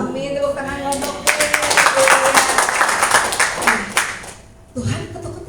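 A church congregation group claps together in a burst of dense, lively applause lasting several seconds, tapering off before more clapping resumes, with voices mixed in.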